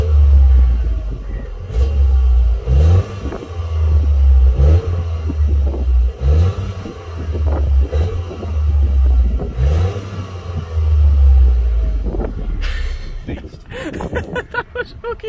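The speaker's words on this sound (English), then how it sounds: "there's absolutely zero noise that comes out of the back end, as we found out when we did a bit of a rev test." A Toyota GR Yaris with a quiet stock exhaust revs repeatedly during a rev test, giving a series of low rumbling surges in a steady rhythm, with clattering at the end and voices talking over it.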